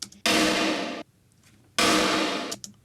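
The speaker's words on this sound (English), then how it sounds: "I cut up just the snares, and then I offset it even more." Two offset snare drum hits, each a bright, noisy burst drawn out by reverb with predelay, land about one and a half seconds apart, loud and isolated with near silence between them.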